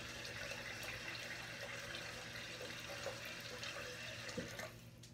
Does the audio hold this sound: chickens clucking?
no